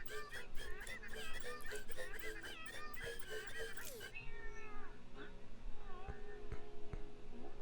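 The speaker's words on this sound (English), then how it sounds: "Here's a nice little cat." A cartoonish cat meows repeatedly in the Legends of Runeterra card game, with several bright, wavering calls up close and someone talking over part of it.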